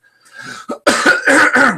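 A short burst of several harsh, close coughs and throat clearing, one after another.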